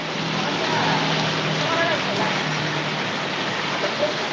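Steady rain falls in a continuous broadband hiss outdoors beside the NH 7 highway near Mathur, where welding work has stopped for the weather, with faint passing sounds over it.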